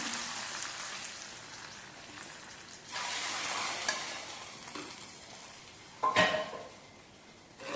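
Hot tempering tipped into a simmering shark fish curry gives a steady sizzle that swells around the pour, with a sharp clatter and hiss burst near the end, close and fairly loud.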